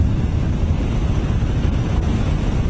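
Steady wind buffeting and a low engine rumble from a Harley-Davidson Dyna Low Rider motorcycle on a main road, continuous and close with no break.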